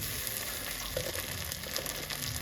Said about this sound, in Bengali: সবজিগুলো মানে দিচ্ছি পুরো ভাজবো না হালকা ফ্রাই করবো